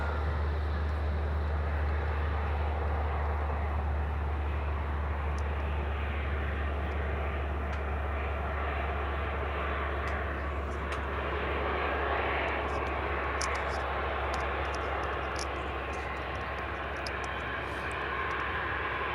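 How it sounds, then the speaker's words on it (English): easyJet Airbus A320 with sharklets rolling for takeoff, bound for Copenhagen: a fairly faint, steady jet engine rush and roar over a constant low hum, slowly fading toward the end, heard alone without talk. "EasyJet rolling now on the way out to Copenhagen."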